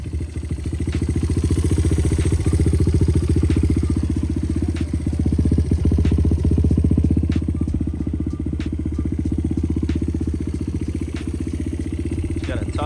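A dirt-style motorcycle fitted with Tusk parts idles steadily, its engine chugging in a fast, even rhythm close by, with small clicks and clatter scattered over the running motor.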